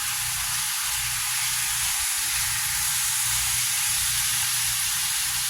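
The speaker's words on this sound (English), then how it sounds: "And then we're just going to let it sizzle" Chicken sizzling in a frying pan for a Marinara-sauce fettuccine dish, a steady broadband hiss holding evenly throughout with no talk over it.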